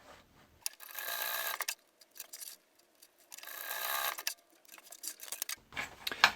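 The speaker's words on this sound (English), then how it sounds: "And then you can just sew through there to close that" A sewing machine stitches through fabric to close a tool pouch, its needle running in several short bursts separated by brief pauses, close and fairly quiet.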